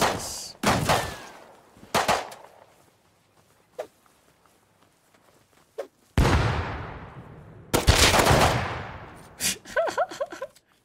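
Pistol gunfire in a multiplayer survival raiding game, heard as scattered loud sharp shots in bursts with quiet gaps between them, plus a few faint footsteps and brief voice fragments near the end.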